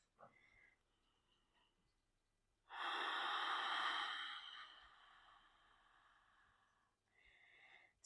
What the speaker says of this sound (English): Deepening your breath.